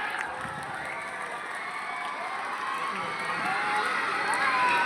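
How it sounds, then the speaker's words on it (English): Students at a school quiz contest applaud and cheer for Samarkand House, a fairly faint, continuous crowd noise of clapping and shouting that swells slightly toward the end. "Give a big applause for the Samarkand House."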